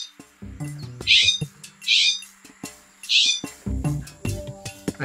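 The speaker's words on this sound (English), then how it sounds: "California scrub jays are loud birds, so keep your ears open for their call." California scrub jay gives three loud, harsh, rasping calls spaced about a second apart, ringing out clearly over quieter, lower background sounds.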